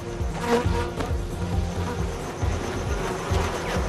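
Honeybees buzz close by with a soft, continuous hum that rises and falls slightly, heard alone without any talking.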